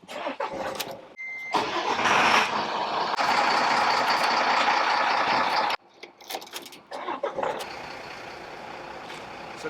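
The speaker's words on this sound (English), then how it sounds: "So that's all the vehicles started up now" Vehicles in a scrap yard starting up, with loud engines turning over and revving, a truck idling heavily, a brief reversing beep and a hiss like an air brake.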